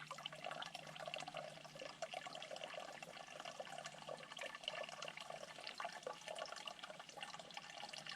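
At a Florida campsite, water runs and trickles steadily, a soft continuous splashing flow with faint drips, quiet and unbroken without any voices.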